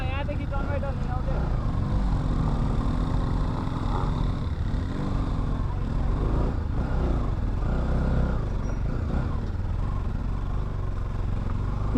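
Motorcycle engines idling and revving on a rough off-road route between Sandhikharka and Amile, a steady rumble with rising throttle swells, close by, under frequent talk among the riders.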